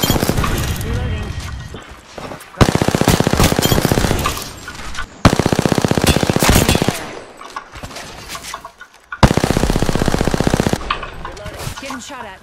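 Loud automatic gunfire in the battle-royale video game Apex Legends, three long sustained bursts of rapid shots separated by short pauses, close and dominant, with brief in-game voice callouts alongside.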